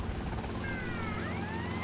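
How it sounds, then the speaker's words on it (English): A helicopter in GTA Vice City gives off a steady, dense rotor and engine drone that fills the whole moment, loud and continuous with no clear talking. "I can spot one helicopter"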